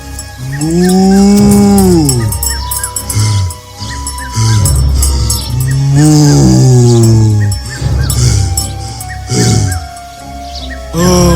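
Cartoon buffalo mooing, long low drawn-out bellows repeated four or five times, loud and close, with shorter grunting calls between them.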